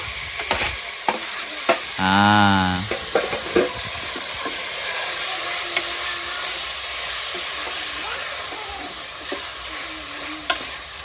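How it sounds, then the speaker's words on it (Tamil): Tomatoes stirred and frying in a pan for mushroom biryani sizzle steadily up close, with sharp scraping and clinking stirs at intervals and a brief tonal squeal early on. "நல்லா தக்காளி போட்டு கிளறி விட்டு"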